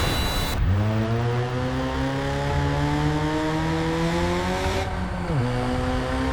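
A car engine drones steadily on a foggy highway at night, its pitch rising as it accelerates, then shifting abruptly as the car swerves sharply, loud and close with no talking.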